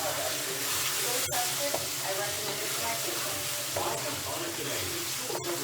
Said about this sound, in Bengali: আমি এটাতে আদা রসুন বাটা দিলাম